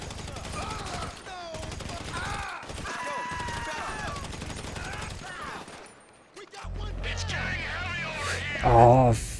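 Gunfire in GTA 5, with bursts of shots mixed among game sounds and music while a player talks excitedly over the action, then a louder burst near the end.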